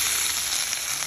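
Meat hitting a pan of sautéed onion and garlic for Filipino adobo, a loud bright hiss of frying that holds steady and close.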